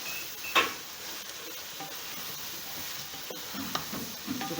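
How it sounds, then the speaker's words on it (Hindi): Green chillies and garam masala frying in a pan crackle softly while a utensil stirs, with a few sharp scraping clicks and a brief louder clatter near the start, no talking. "हरी मिर्ची, ये गरम मसाला, थोड़ा सा हम भून लें ताकि इसमें से खुशबू आने लगे।"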